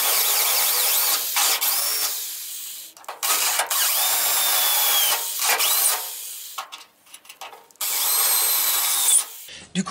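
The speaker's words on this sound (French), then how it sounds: "Je vais essayer de percer légèrement certains des points de soudure." A power drill biting into spot welds on the steel body of a Citroën Traction 11B, several loud whining drilling bursts of a few seconds each, separated by short pauses and clicks.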